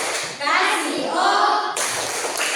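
A classroom group of children claps through the rhythmic "tepuk wow" routine, a burst of bright hand claps and chanting voices running nearly continuously with a brief pause before a final surge.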